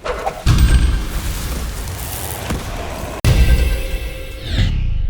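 Shotgun blasts from the video game Borderlands 3, two heavy booming shots a few seconds apart, each loud and close with a rattling tail, no talk.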